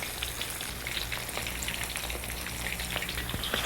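Cauliflower pieces deep fry in hot ghee, giving a steady, close crackling sizzle with scattered sharp pops throughout and no voices.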